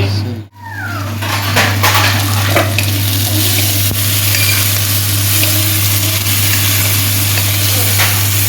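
Small onions and tomatoes sautéing in a pan for mutton intestine curry, a loud continuous sizzle close up, with a brief knock near the start, stirring scrapes, and a steady low hum beneath.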